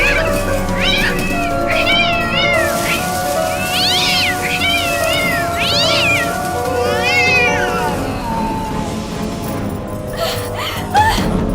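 A cat meows repeatedly, several drawn-out rising and falling cries in a row, loud and close over a steady background hum, then quiets near the end.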